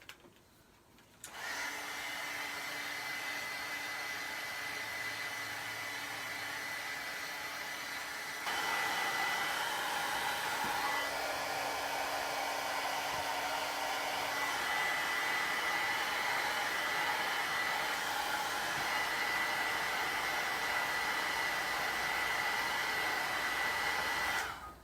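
A hair dryer blows steadily to dry ink on an art card, a loud continuous whir lasting the whole stretch that shifts pitch and grows stronger partway through as the airflow changes.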